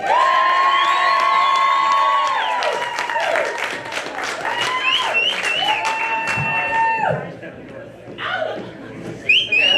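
A comedy club crowd claps, cheers and whistles for a comedian taking the stage over loud walk-on music, the noise fading toward the end as a voice begins over it.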